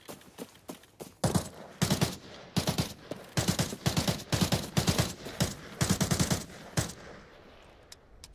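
Automatic gunfire from a video game firefight against AI PMCs, with loud, rapid bursts that repeat in close succession and overlap, then fade into a quieter tail, with no voices.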